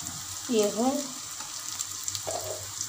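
Sliced onions sizzling in a hot pan after salt is added for a fish curry, with a steady frying hiss, a short scraping stir and a brief clatter near the end.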